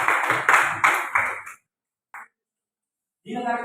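Classroom applause from students, a short burst of clapping that stops abruptly, followed after a pause by a faint tap and then a voice beginning to speak.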